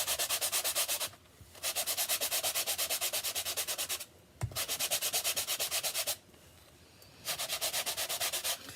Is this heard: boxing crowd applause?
no